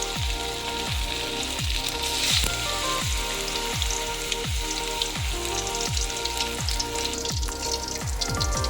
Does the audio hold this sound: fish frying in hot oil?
yes